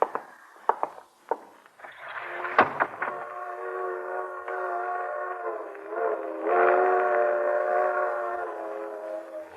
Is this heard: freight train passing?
yes